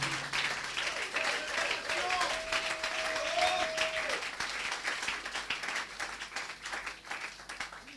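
A church congregation applauds steadily throughout, dense clapping and crowd noise filling the space while a preacher's voice carries over it and a sustained tone drifts in the background.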